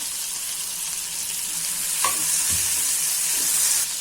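Spinach sizzles in a hot pan with garlic chutney and ginger, a steady close frying hiss broken by a spoon clink and a stirring scrape, with no talking.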